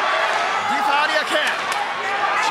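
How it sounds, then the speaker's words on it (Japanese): A packed crowd in the Differ Ariake arena applauds during a Kobashi versus Akiyama professional wrestling match, a loud, steady wash of clapping and cheering filling the space throughout, with a commentator's voice running over it. "超満員のお客さんから拍手が沸き起こっています"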